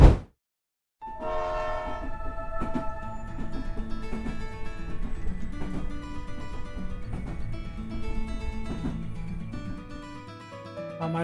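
A train sounds its horn at Akhaura railway station, long loud tonal blasts continuing over the steady rumble of rolling railcars close by, with no voices.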